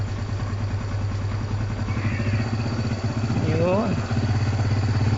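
Barako 175 motorcycle engine with a fullwave setup, idling steadily up close and briefly revved partway through, with a short spoken word over it.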